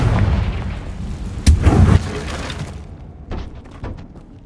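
Confringo fire-blast spell explodes in Hogwarts Legacy: a sudden booming blast hits halfway through a dense, rumbling game soundscape, with lighter crackling debris afterward as the noise thins out.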